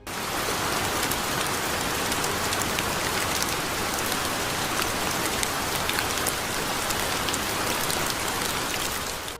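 Heavy rain pours down steadily in Shenyang, a dense, continuous hiss of drops hitting surfaces close by, unbroken for the full stretch with no voices.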